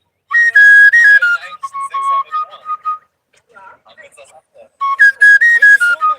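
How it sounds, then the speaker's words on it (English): Someone outdoors produces a series of bright, fluttering, melodic whistled phrases, loud and close, with a quieter pause in the middle before the high warbling returns. "You whistle very good."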